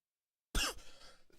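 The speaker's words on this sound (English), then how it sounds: "stupid bloody cough." A single sharp cough bursts out after silence during a live music tribute, followed by a brief rough throat-clearing tail, close and fairly loud.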